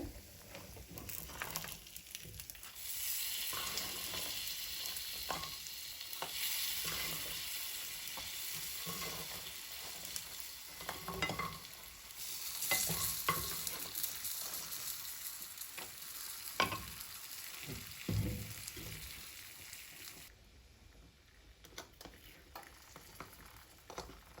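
Mixed vegetables and fried lentil dumplings are stirred in a hot pan, with steady sizzling, scraping and clattering spoon strokes that carry on, fairly faint, for the whole stretch with no speech.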